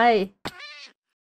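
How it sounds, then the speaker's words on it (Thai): Short cat meows play as a hurt sound effect in a Minecraft Create: Arcane Engineering modpack, two quick cries in a row, clear and close. "เจ็บเมื่อไหร่ก็จะมีเสียงน้องแมวร้อง"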